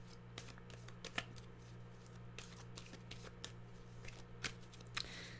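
Tarot cards being shuffled by hand in a quiet room, a steady run of soft riffling flicks and sharp card snaps over a low constant hum, with no talking.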